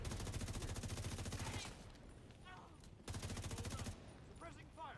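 Rapid automatic gunfire in the video game The Division 2 comes in two loud sustained bursts separated by a quieter gap, with a voice speaking briefly in between.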